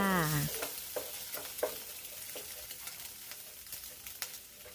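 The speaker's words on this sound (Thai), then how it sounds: "กระเทียมหมูสามชั้นสไลด์แล้วก็ไข่ค่ะ ผัดคนคลุกเคล้าให้เข้ากันค่ะ" Garlic, sliced pork belly and egg stir-fried together in a pan for pad see ew, giving a steady close sizzle broken by repeated scraping stirs, with no talking.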